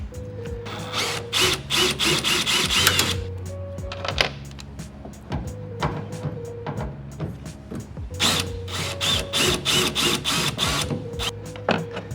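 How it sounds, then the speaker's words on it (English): Power drill whirring in repeated short bursts with pauses, close and loud, as screws are driven out one after another from a 2014-2018 Chevrolet Silverado. "we're going to be using a power drill"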